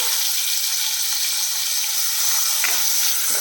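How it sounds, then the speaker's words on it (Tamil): Tomatoes sautéing in a pan over medium flame for a Kerala fish curry give a steady, loud, continuous sizzle and hiss that runs unbroken throughout, with no speech. "இதில் வந்து தக்காளி சேர்த்துடலாம்"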